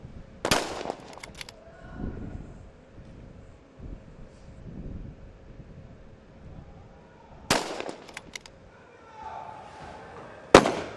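Rifle shots from a SWAT team engaging targets at about 100 meters on a range, a sharp loud crack near the start, another around seven seconds and a final one at the end, with wind noise and quiet background between.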